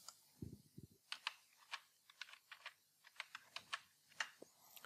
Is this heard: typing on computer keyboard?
yes